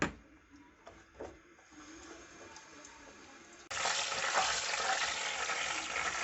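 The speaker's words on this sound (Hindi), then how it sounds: "ज़ीरा हल्का सा भूनेंगे," Cumin seeds and whole black peppercorns lightly frying in a pan for egg palak, faint scraping and quiet stirring at first, then a sudden, steady loud sizzle.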